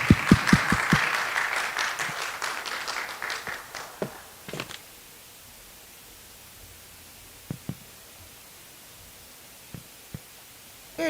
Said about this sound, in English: let's welcome her with a clap